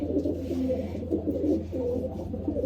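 A pigeon hen in a backyard loft coos in repeated low, throaty rolls, close by and fairly steady, with no talking over it.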